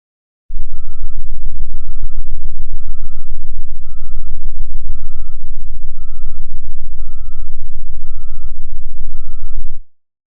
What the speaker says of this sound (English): And now, the sound of a truck backing up on Mars.